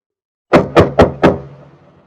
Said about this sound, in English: Suddenly, there's a knock on the door.